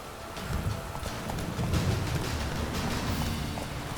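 Horse hooves gallop in a quick, rhythmic clip-clop in The Witcher 3 video game, steady and moderately close throughout.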